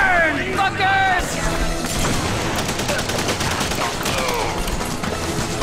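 Rapid gunfire in The Punisher video game during a Ryker's Island prison fight, sustained bursts of shots and impacts mixed with game voices and a player talking over the action.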